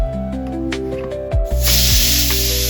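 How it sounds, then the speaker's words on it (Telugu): A pressure cooker vents with a loud hiss during fenugreek dal cooking, a rising steam release that jumps in strength midway and stays steady and close over a low background hum. "కుక్కర్ మూత పెట్టి 5 విజిల్స్ వచ్చే వరకు ఉడకనివ్వండి"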